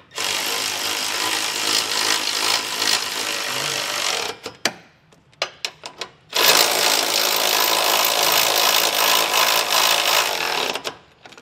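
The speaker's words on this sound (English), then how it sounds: "Now with a 3/4 inch socket, we'll just go through and snug these down." Power tool with a 3/4 inch socket snugging down trailer hitch bolts on a 2022 Nissan Rogue, two long steady whirring runs broken by a pause with clicks and knocks, close and without talk.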